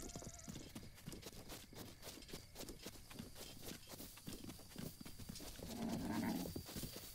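Steady clip-clop of horse hooves in the video game The Legend of Zelda: Breath of the Wild at a quick, rhythmic pace, continuous throughout, with a brief whinny-like rise near the end.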